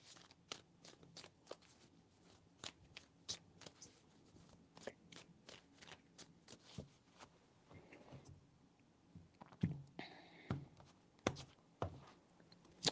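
A tarot deck being overhand shuffled at close range, producing a long steady series of crisp card slaps in quick rhythm, with a few heavier knocks toward the end.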